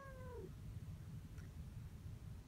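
A cat meows inside a car, a clear, fairly close falling meow at the start over a steady low rumble of road and engine noise, with no talking.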